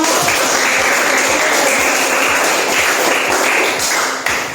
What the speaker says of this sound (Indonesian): kita berikan tepuk tangan untuk kita semua